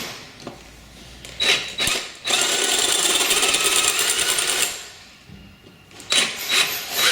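A drill bores out a snapped exhaust stud, its broadband grinding whine running steadily in a long burst of a few seconds, with shorter starts before and after and no talking.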